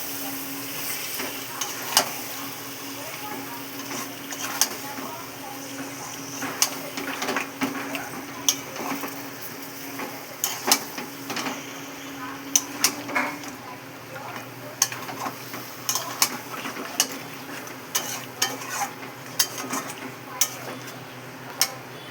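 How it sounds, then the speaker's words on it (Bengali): Chicken frying and being stirred in a pot for biryani, a steady sizzle under frequent clicks and scrapes of a metal spoon against the pan, close by and irregular throughout. "ভালো করে আমি কষিয়ে নেব"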